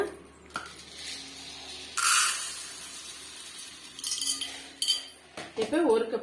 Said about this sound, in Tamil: இப்போ இதே கப்பால் ஜவ்வரிசி அளந்து எடுத்துக்கலாங்க